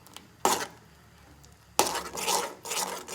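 Stirring pasta sauce with milk in a pan during village-style home cooking, heard as a few short bursts of scraping and rubbing against the pan, close by with quiet gaps between, no talk.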